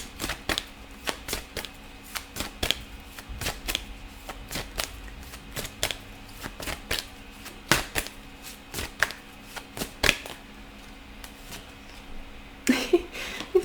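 Tarot cards being shuffled by hand before a final card is drawn: a rapid series of crisp, dry riffling snaps and flicks at an uneven rhythm, close and fairly quiet, with a brief flurry near the end.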